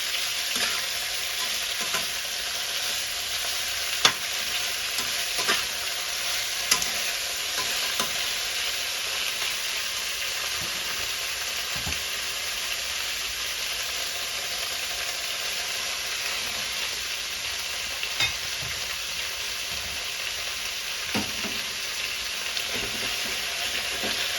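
Yakisoba noodles with vegetables and sweet peppers stir-fry in a hot pan, giving a steady close sizzle throughout, punctuated by the light clicks and scrapes of stirring.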